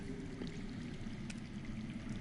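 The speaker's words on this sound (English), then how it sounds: "I hear water. From underground." Running water underground in a Game of Thrones video game, a low, steady pouring and trickling flow that sounds faint and muffled, as if from below, with no talk.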